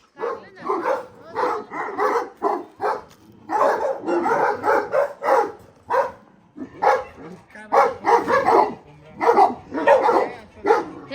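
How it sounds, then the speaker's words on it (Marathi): Dogs bark repeatedly in short, loud bursts at a farmhouse, several of them close by, with people talking over and between the barks. "बघा इथे आहे सर्व डॉगी आणि एकदम खतरनाक डॉगी आहे ते."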